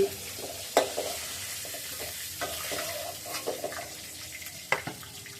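Fish sizzles gently in hot oil while a utensil scrapes and stirs the pan, with occasional sharper clinks.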